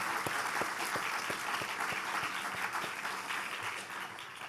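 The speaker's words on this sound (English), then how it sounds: "That deserves a round of applause." An audience at a university's State of the University address claps in a steady, even wash, with sharp individual claps standing out near the listener and the applause tapering slightly toward the end.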